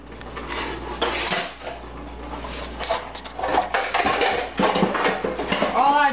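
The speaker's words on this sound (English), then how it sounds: "All the dishes that I dirtied cooking the salad all kind of ended up in the sink, so I had to kind of move it out of the sink" Dirty dishes, pots and pans are shifted around in a kitchen sink, giving irregular clanks, clinks and scrapes of cookware and cutlery close by, with a steady low hum underneath and occasional voices.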